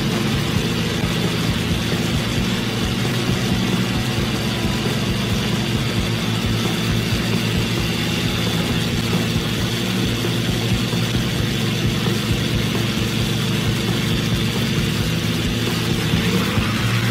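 Steady low engine drone of a tour boat idling as it comes in to land on the Königssee near St. Bartholomew's church, continuous and fairly loud with no voices.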